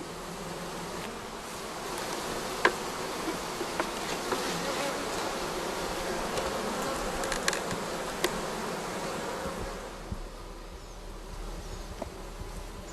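Dense, continuous buzzing of a honeybee colony during comb transfer, close and steady, with occasional faint clicks and handling noises.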